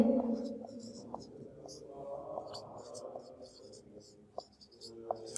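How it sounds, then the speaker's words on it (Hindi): Writing on a board during a discrete mathematics lecture, with brief scratchy strokes and taps scattered through several seconds, heard under someone speaking quietly nearby. "यहाँ पे लिखते हैं"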